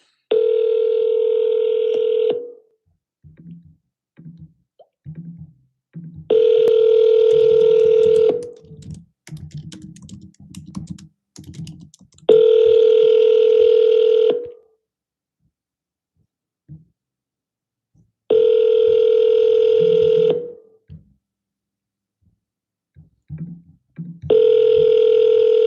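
Outgoing phone call ringback, long steady tone bursts repeating about every six seconds, with quiet keyboard typing and clicks in the gaps between.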